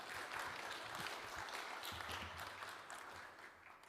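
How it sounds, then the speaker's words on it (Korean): An audience at a public hearing on the World Evangelical Alliance applauds to welcome a presenter, a faint, fairly distant spread of clapping that holds steady and then tapers off toward the end. "박수로 한번 발제를 청해 주시기 바랍니다."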